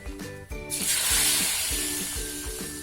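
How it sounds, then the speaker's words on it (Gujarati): Hot ghee poured into an adadiya flour-and-milk mixture gives a bright hissing sizzle that swells after a few soft knocks and then fades slowly, up close and steady. "તેમાં આપણે ગરમ ઘી નાખી દેશું."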